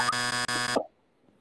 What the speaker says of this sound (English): Yeah, I got my buzzer.